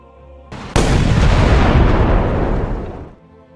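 A tank's main gun fires a Panzergranate 39 armour-piercing shell from a tunnel under a railway station: one sudden, loud, close blast that stays as a heavy rumble for over two seconds, then dies away.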